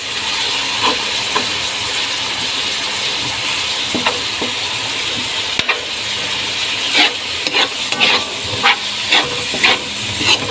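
A spatula stirs sautéed bottle gourd in a hot pan, making irregular metallic clinks and scrapes over a continuous frying hiss, which grow busier toward the end.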